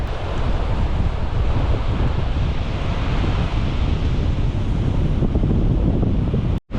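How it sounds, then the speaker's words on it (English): Strong wind roars across a high suspension bridge over a river on the Annapurna Circuit, a loud, constant rushing and buffeting against the microphone that cuts off abruptly at the end. "And the wind is blowing, so it's a bit hairy."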